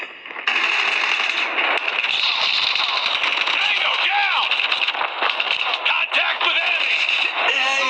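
Rapid gunfire and explosive bursts from Call of Duty Mobile gameplay, loud and continuous throughout, with a voice talking over the shooting.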